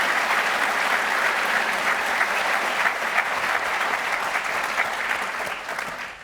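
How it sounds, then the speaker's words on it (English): Sustained applause from a conference audience, dense steady clapping that holds strong for about five seconds before tapering off slightly at the end. "may I ask the audience to give a big round of applause for Paul and Sri"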